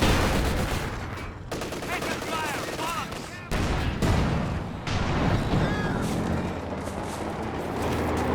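Battle sounds in Company of Heroes 2 as a P4 tank fires, dense overlapping gunshots and heavy booms with sharp cuts between explosions, all under constant loud combat noise.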